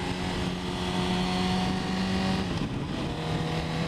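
Close, loud aftermarket exhaust drone from a Honda 1000cc motorcycle holding a steady high idle, then the tone drops slightly as revs settle.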